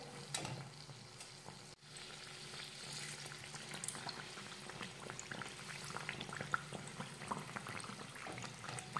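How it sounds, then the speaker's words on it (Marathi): Bread pakoras deep-frying in oil over low to medium heat give a soft, continuous bubbling crackle, faint and steady throughout, with a brief clink near the start. "मंद ते मध्यम आचेवर हे पकोडे आपण व्यवस्थित तळून घेऊयात।"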